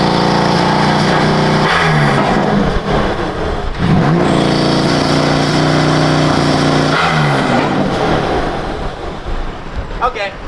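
BMW M4 Competition engine and intake noise heard from the cabin, a loud, continuous roar with several sharp revving swells and pulls, a voice talking briefly over it.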